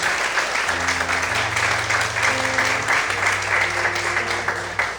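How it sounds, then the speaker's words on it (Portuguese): Loud, sustained applause fills a church service as the congregation claps harder in worship, steady and dense for five seconds over held low organ-like keyboard notes, easing slightly at the end. "Mais fortes palmas a Deus."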